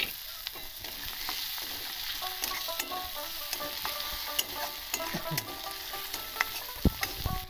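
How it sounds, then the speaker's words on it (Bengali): Chopped raw tomato added to a spice paste frying in a pan for a spicy Bengali small-fish dish, giving a steady close sizzle with frequent spoon scrapes and clinks. "আর এর মধ্যে দেবো সেই কাঁচা কেটে রাখা টমেটোটা।"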